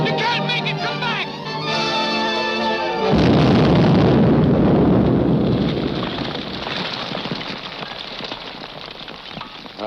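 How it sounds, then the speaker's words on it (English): A loud explosion from a 1943 film serial blasts in after a sustained tone, a broad roaring burst that rumbles and slowly fades over several seconds. "That explosion got Grogan, too."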